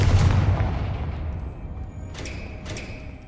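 A Confringo explosive spell from Hogwarts Legacy goes off with a heavy, booming blast at the start. The rumble decays over about a second, and two fainter, sharper impacts follow later.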